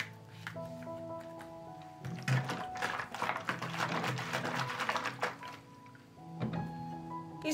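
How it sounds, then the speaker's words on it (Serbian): A 5 litre bottle of homemade liquid fertilizer is capped and shaken, with a few knocks and plastic thunks followed by a burst of sloshing liquid, then more handling taps, close up and quiet. "Zatvorit ću flašu i promačkati"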